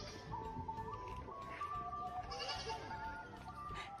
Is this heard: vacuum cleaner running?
no